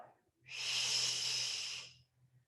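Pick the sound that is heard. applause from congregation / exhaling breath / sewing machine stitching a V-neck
exhaling breath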